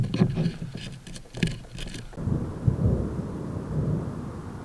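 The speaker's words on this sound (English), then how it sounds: "that thunder's getting louder" Low rolling thunder from an approaching storm rumbles over a dispersed backcountry campsite, a deep swelling grumble rising in the second half, with light patter earlier on.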